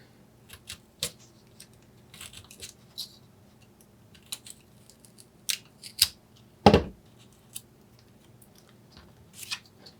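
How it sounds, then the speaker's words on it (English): A craft blade cuts a chunk out of the top layer of foam core board, heard as a few sparse, close scratchy cuts and crunches with one louder slice near the middle, amid quiet pauses. "I'm going to take my blade and cut out a chunk from the first layer of the foam core board"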